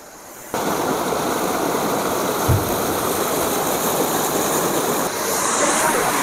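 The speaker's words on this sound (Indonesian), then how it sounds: "Di sebelah sana ada air yang mengalir, sungai yang batu itu." A stream of water rushes over rocks near Kundasang, Sabah, a loud, steady broadband roar that starts abruptly and continues without a break, with no talking.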